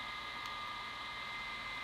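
A Frizcol portable fan runs with a steady, even broadband whoosh like white noise, close and constant throughout, with a faint click near the start and no talking.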